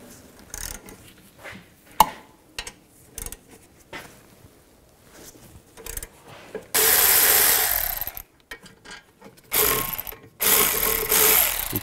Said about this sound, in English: Take these two caliper bolts, loosen those up and take those out.